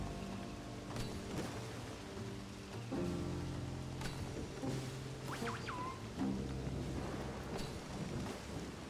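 Steady rain in the video game Gibbon: Beyond the Trees, a constant wash under layered music with occasional rumbling swells, no talking.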